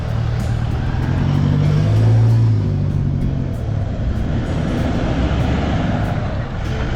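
Vehicle driving around a large ranch during an overland road trip in the Philippines: a steady, loud low engine rumble with road noise throughout, rising briefly in the middle, with no clear talk over it.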